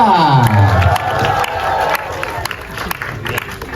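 An audience at a film press conference cheers and claps to welcome an actress, with excited shouts fading into ongoing applause and voices mixed throughout.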